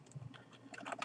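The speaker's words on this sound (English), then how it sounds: "I'm typing and trying to look at something at the same time" A short flurry of close keystrokes on a computer keyboard, several crisp clicks in about a second, typed in the dark while entering Minecraft commands, with no voices.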